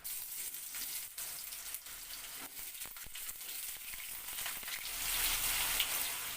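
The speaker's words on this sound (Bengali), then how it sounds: "আমি এই আলুর টুকরোগুলোকে হালকা করে একটু ভেজে নেব।" Potato pieces frying in hot mustard oil give a steady close sizzle with crackling spits that runs the whole way, getting a little denser toward the end. No one speaks.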